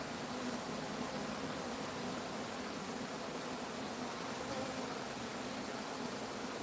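A swarm of bees fills the air with a continuous, even buzzing drone, moderately faint and unbroken throughout, with no voices.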